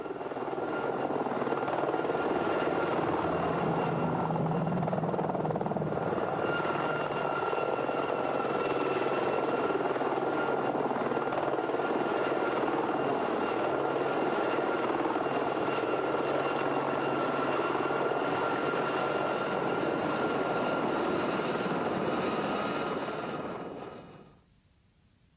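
Armed Cobra attack helicopter in flight, a loud continuous rotor and turbine roar with steady throb, holding close for over twenty seconds before cutting off abruptly, with no talk.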